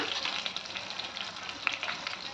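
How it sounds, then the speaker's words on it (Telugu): Mustard seeds, cumin, chana dal, urad dal and dried red chillies crackling and popping in hot oil for egg pulusu, a dense sizzle with sharp little pops scattered throughout. "చిటపట అంటున్నాయి కదా"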